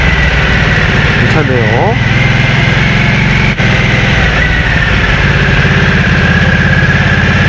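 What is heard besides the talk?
Harley-Davidson Nightster motorcycle engine idling, low muffler rumble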